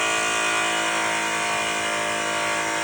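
A power polisher works on a truck wheel during a touch-up polish for a show mirror finish, giving a steady, close whirring hum that holds even throughout with no speech.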